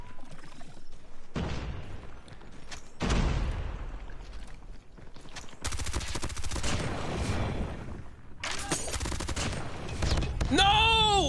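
Gunfire in the mobile shooter COD Mobile: repeated sharp shots and bursts, loud and close, with heavy firefight noise across the whole stretch and a brief swooping tone near the end.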